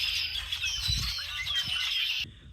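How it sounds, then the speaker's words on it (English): A flock of around forty birds in a tree just outside a door, squawking and chirping together in a dense, continuous chatter, with brief lower fluttery sounds, until it cuts off abruptly near the end. "There's got to be 40 birds in that tree right outside my door."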